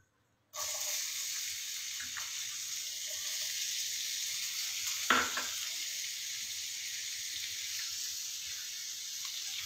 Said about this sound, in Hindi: इसको हम तब तक फ्राई करेंगे जब तक इसका कलर ना बदले